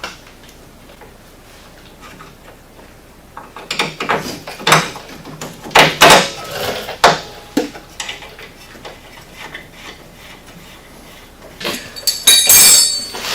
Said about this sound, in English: I'm going to go ahead and stick my bolt back in